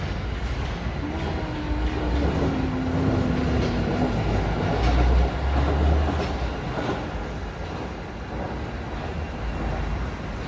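Suspended monorail train arriving at a station in Germany, a steady broad rumble with low mechanical drone and a brief rising tone, moderately loud and continuous throughout.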